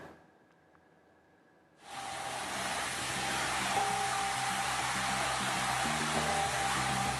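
Floodwater rushes in a steady, loud broadband roar during a rope rescue of a trapped young man in Aceh Tamiang, starting abruptly after a quiet moment and continuing without pause.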